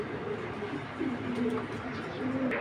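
Racing pigeon of mixed show bloodlines cooing in soft, repeated low throaty phrases close by, with a steady background hum and no talk.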